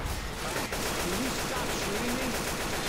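Gunfire in the zombie shooter game Left 4 Dead 2, a dense, continuous rattle of rapid automatic shots held at a steady level without a pause.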